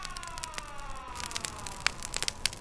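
An endless siren wails over a scary night scene, its long tone drifting steadily downward while rapid crackling clicks and pops sound over it throughout, with no voices.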